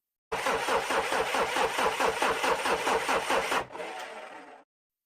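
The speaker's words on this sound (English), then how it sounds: "The engine groaned, a hollow metallic click." A car engine groans as the key is twisted, a loud, rapid rhythmic cranking that chugs for about three seconds, then drops to a weaker, rougher stutter before cutting out.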